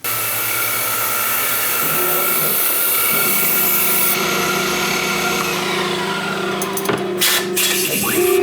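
Machine cutting a plastic project box for a lathe electronic leadscrew control panel, a loud, steady high whine that holds for several seconds, then shifts as the cut ends with rattling and clunks near the close.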